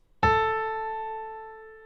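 A single struck 880 hertz tone rings out clearly after a sharp attack, then slowly fades, leaving a pure sustained pitch with no talking.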